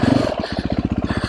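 A Sherco SEF 450 dual sport motorcycle, brand new and French made, rides close by with a rhythmic, pulsing single-cylinder engine note.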